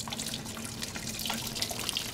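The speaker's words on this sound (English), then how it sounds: "you can see how the water is kind of showering. Looks like a shower. And it's spraying the grains." Water showering steadily over a bed of grain during sparging in all-grain home brewing, a soft continuous spray and patter with no voices.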